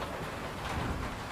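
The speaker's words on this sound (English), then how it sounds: "Looks like hail." Hail falls outside, a dense, steady patter of hard pellets on surfaces, even and continuous.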